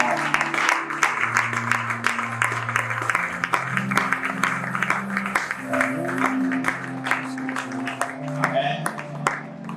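A church congregation applauds and cheers during an evening worship gathering, scattered sharp claps running throughout over sustained voices and tones, moderately loud and lively.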